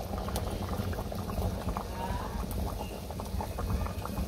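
A curry with cumin paste stirred in bubbles and simmers in a pot, a dense, steady burbling close by that continues without a break, with faint kitchen movement underneath.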